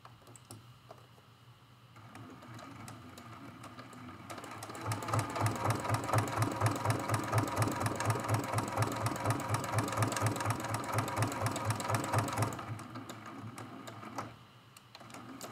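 Sewing machine quilting loose zigzag stitches up flower stems, a rapid even mechanical chatter that builds in, runs steadily for several seconds near the listener, then slows and stops.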